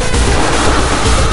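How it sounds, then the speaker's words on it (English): Lasers fire without letup in the Shark Attack video game, a loud, dense, unbroken wash of crackling, booming blasts that fills the whole moment. "It's firing its lasers at me."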